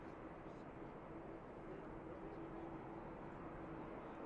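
An Aer Lingus airliner taxiing at Manchester Airport gives a steady, distant engine drone that stays constant throughout, with a voice heard over it.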